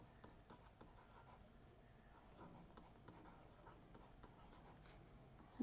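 Pen writing on paper during a biology lesson, a steady scratchy scribble running continuously for several seconds at moderate level, with no speech over it.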